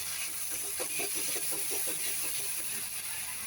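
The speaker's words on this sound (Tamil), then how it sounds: "இப்போ நம்ம அரைச்சி வச்சா பூண்டு சீரகம் வெங்காயம் பேஸ்ட்டை போட்டு வதக்கணும் நல்லா வதக்கணும்" Garlic, cumin and onion paste sizzles in a pan for green jackfruit kofta curry, a steady close hiss with faint crackling throughout.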